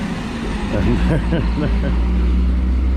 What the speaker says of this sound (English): Excuse the noise, the bin men are coming past.